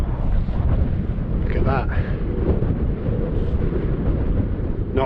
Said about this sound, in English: The wind's picked up now, really has picked up